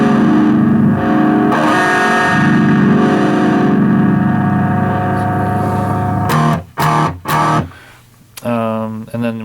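A BYOC parametric overdrive pedal, a Pearl OD-05 clone, with its frequency band cut, gives a sustained distorted guitar tone. Several short, choppy strums with gaps between them follow.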